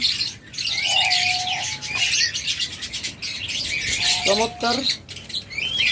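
Caged diamond doves give soft calls amid a background chorus of chirping pet birds in a shop, with someone speaking briefly over them.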